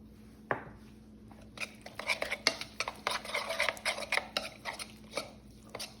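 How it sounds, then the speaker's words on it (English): Spoon stirring red wine vinegar dressing with a pinch of kosher salt in a bowl, a run of close, quick clinks and scrapes against the bowl that comes in a burst after a single tap. "I like to give this a little stir before I add in the olive oil"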